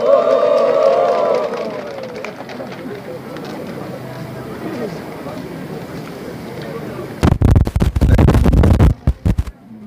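A voice speaks over a crowd at a press conference in Busan, then a burst of loud applause breaks out from many people and fades in short ragged bursts.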